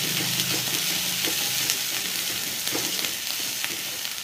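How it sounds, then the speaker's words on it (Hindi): Masala spices for chicken curry sizzle and crackle steadily in a kadai, close and continuous, with the occasional scrape of stirring. "इसे हम अच्छे से फ्राई कर लेंगे।"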